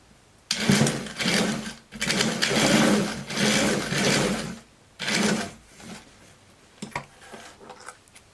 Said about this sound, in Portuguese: Eu acho que eu vou passar um pesponto aqui na ponta.